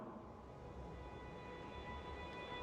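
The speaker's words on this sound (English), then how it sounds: "The drone of the equipment, the hum of the crowd below" A low, steady station drone hums continuously in the game Empathy: Path of Whispers, with a soft rumbling murmur beneath and faint high whining tones, distant and quiet throughout.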